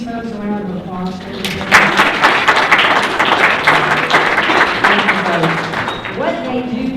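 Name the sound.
audience applause for nonprofit volunteers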